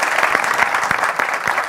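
A studio audience claps steadily through the whole moment, dense continuous applause with scattered sharper hand strikes, close and fairly loud with no talk over it.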